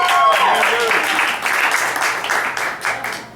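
Comedy club audience applauding at Federal Bar in North Hollywood, a dense burst of clapping that starts loud, eases briefly, then swells again, with some voices mixed into the crowd noise.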